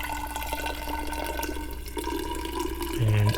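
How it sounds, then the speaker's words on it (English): A faint, steady trickle of liquid solvent pours into a container on a workbench while homemade Tamiya extra thin cement is mixed, a continuous quiet splashing with a slightly louder burst near the end. "let me pour my 80 milliliters"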